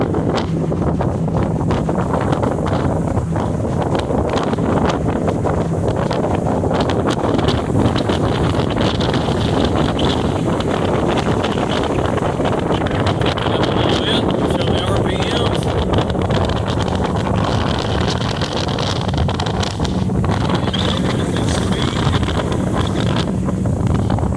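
A 2017 Ranger Reata 20 ft pontoon boat cruises across a lake at moderate speed, strong steady wind roaring over the microphone and masking a faint hum of water and motor throughout, with no clear talking.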